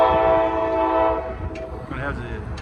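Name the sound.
train horn salute from passing train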